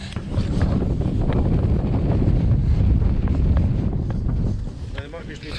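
Wind buffets the microphone on the open, steep deck of HMS Warrior, the historic warship at Portsmouth Historic Dockyard, producing a steady loud rumbling roar throughout with faint background sounds.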